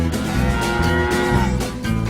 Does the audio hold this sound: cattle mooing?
yes